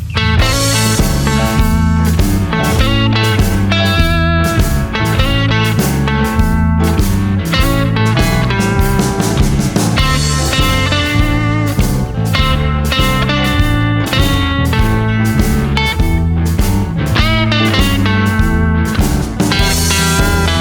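Electric guitar playing a blues solo over a full backing track, with continuous loud, dense bass, drums and sustained melodic notes throughout.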